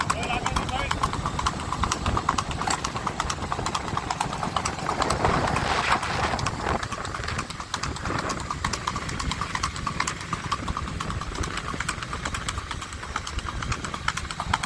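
A Sindhi racing horse's hooves beat a quick, even clip-clop throughout at a rewal race in Anjar, Kutch, under continuous excited commentary, with an idling engine and motorcycle noise mixed in.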